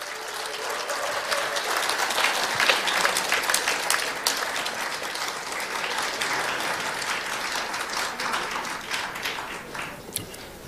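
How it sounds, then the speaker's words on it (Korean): A large audience at a party convention applauds for about ten seconds to welcome a newly selected presidential candidate to the stage, steady and full-bodied with scattered sharper claps, slowly thinning toward the end. "큰 박수로 환영해 주십시오"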